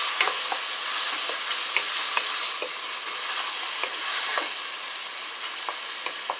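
Boiled chickpeas frying in a pan with black pepper, a steady bright sizzle broken by repeated light taps and scrapes of stirring, close and fairly loud, with no voices.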